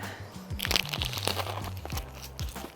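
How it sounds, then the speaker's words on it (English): A bite into a Greek garlic lemon chicken pita with crisp pita croutons and garlic sauce gives close crackling crunches, repeated through chewing over a low background hum. "The crunch, the textures"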